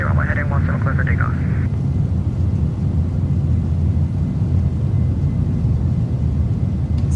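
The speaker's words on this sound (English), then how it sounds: "2655, runway heading, runway 17, clear for takeoff" Airliner engines roar steadily through a takeoff roll in the X-Plane 11 flight simulator, a loud continuous low rumble filling the whole clip, with a brief radio-style voice at the start.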